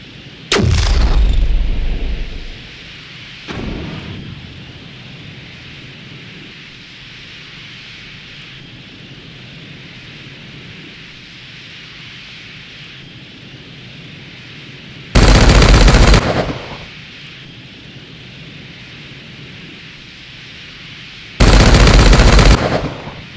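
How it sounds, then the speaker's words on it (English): Missile launches and gunfire from a VR flight shooting video game: two loud, sharp bursts near the start, then two further heavy blasts later, each about a second long, over a steady low background rumble. "the missiles follow the object and destroy it"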